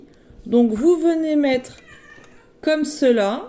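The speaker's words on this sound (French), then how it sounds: "Désolé pour le bruit de mon chat." Pet cat meowing in two drawn-out bursts indoors, each rising then falling, close by, with someone speaking French over and between the meows.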